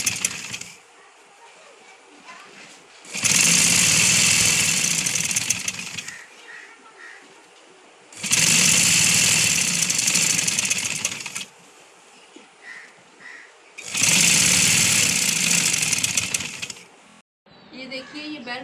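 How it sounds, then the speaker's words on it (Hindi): Domestic sewing machine stitching the top edge of a pleated palazzo: three loud, sustained whirring runs of several seconds each, separated by quieter pauses with handling noise. "अब एक सिलाई जहाँ पे चेपी लगी है वहाँ ऊपर किनारे पे लगाएंगे।"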